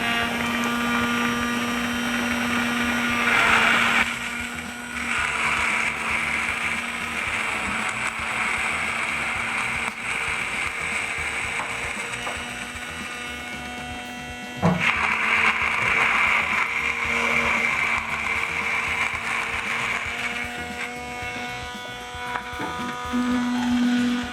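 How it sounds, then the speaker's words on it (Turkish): A hand blender whirs continuously with a steady high-pitched motor whine, briefly changing pitch and load a couple of times as it purees cauliflower soup. "Püre yapacağız yani blenderdan geçireceğiz."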